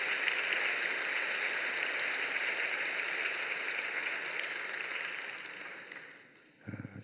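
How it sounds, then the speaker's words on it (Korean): A church audience applauds a choir in a long, steady wash of clapping that gradually thins and fades near the end, with no voices over it. "우리 트리니티 찬양대를 위해서 우리 박수 한번 크게 보내주실까요?"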